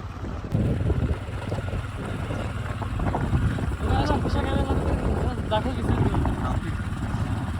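A boat's engine drones steadily on the Siddheshwar Dam reservoir in Hingoli, a continuous close rumble mixed with strong wind buffeting the microphone, with voices talking over it throughout.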